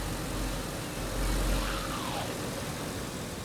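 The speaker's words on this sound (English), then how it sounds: "Obviously, vehicles are quite noisy, so they are going to attract the attention of infected" A car driving in the video game DayZ gives off a steady, low engine rumble that stays fairly quiet and continuous throughout, with a slight swell midway.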